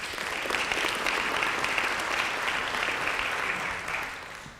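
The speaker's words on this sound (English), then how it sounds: "give them a round of applause again." An audience at a city council candidate forum applauds for the candidates, a sustained round of clapping that holds steady for several seconds before beginning to fade.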